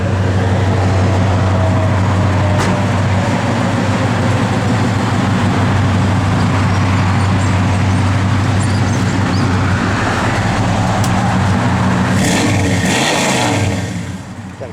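A 1971 Chevrolet Chevelle SS V8 idles with a loud, steady low rumble that swells briefly into a rev near the end, recorded close and with no talking.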